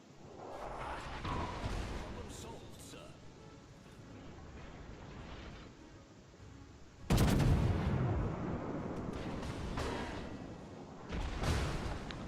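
Naval gunfire in the video game World of Warships, with a deep booming salvo about halfway through and another fainter report near the end over steady engine and sea rumble.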